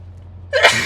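A single sharp sneeze bursts out after a quiet moment, loud and close.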